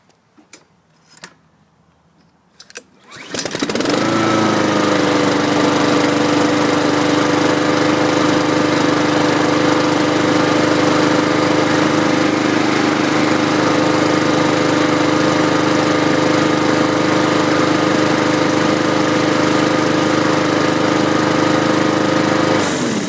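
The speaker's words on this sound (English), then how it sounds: "Let me pull on this, see if we have success." A 2011 Troy-Bilt push lawn mower with a non-priming engine and manual choke is pull-started after a few rope rattles, then runs steadily at a loud, close, unbroken drone.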